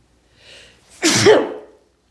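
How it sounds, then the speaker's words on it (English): A single human sneeze: a soft, quick intake of breath followed by a sharp, loud burst that fades within about a second, alone in a quiet room. "I think I have to sneeze again."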